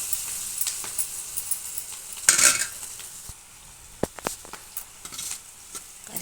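Curry leaves and spices hit hot oil for Rayalaseema karam borugulu, bursting into sharp sputtering pops and an uneven crackle over a soft sizzle, with a few light utensil clinks.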